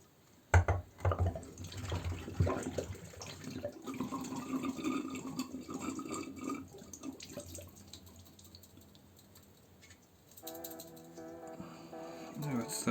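Water runs and trickles out of a home radiator being flushed of limescale with a lemon-salt solution, a splashy draining flow with drips under intermittent talk, tapering off before a brief louder pour near the end.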